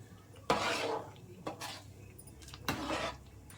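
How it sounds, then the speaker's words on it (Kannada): A spoon stirs avarekalu upma in a pan with three or four distinct scraping strokes against the metal, close and fairly loud, with quieter gaps between them. "ನಾವು ತಿರುಗಿಸ್ತಾ ಇರಬೇಕು"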